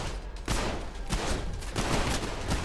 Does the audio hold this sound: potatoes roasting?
no